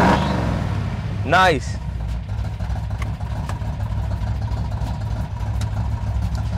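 A collector car with a manual gearbox starts at the first turn of the key and settles into a loud, rumbling idle. A person speaks briefly over the start.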